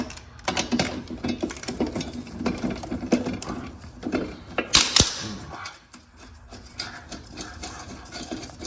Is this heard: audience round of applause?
no